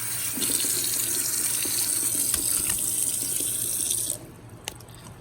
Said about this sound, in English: I'm gonna rinse this thing out in its completion. So I wash my rice.